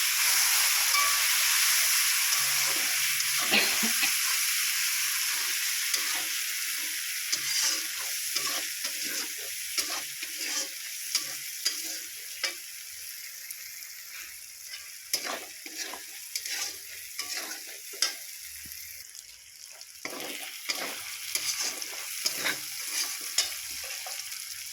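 A paste of ground cashew, poppy seed, mustard and melon seed fries in a pan for a rohu fish curry. Steady sizzling hiss runs throughout, broken by frequent scraping stir strokes, with no talking.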